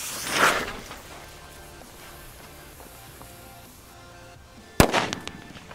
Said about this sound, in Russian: И за пятым Корсаром у нас идут петарды Корсар 6.